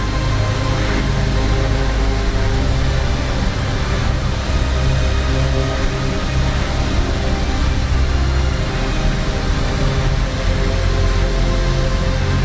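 Pilatus PC-6 single-engine turboprop aircraft in Microsoft Flight Simulator, flying in formation over the Maldives as a seaplane: a steady, loud propeller and engine drone that holds without a break, with no talk.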